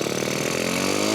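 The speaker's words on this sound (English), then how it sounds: "The goal for today's video is to hear this bike run for the first time" A 1969 Honda SL90 motorcycle, a barn find, running for the first time in decades: a steady, buzzy small-engine drone held close and loud, with no voices.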